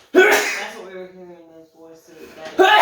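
A sharp sneeze bursts out at the start and again at the end, with talking between them.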